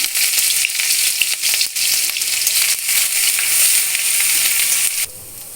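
Whole cumin seeds and grated ginger sizzle in hot oil, a loud, steady broadband hiss with brief dips that drops to a quieter simmer near the end.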